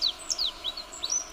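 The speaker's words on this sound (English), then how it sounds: "Taking a brief moment of rest, the tailorbird remains alert to any sudden movement. Chirp, chirp, chirp," Tailorbird chirping in a thicket: a quick series of sharp, high chirps and short sweeping tweets, close and clear, with a quiet background and no talk.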